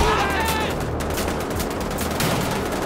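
Sniper rifle gunfire in the video game Wolfenstein: The Old Blood, a loud, dense burst of shots and echoing crackle running continuously through the stretch with game noise behind it.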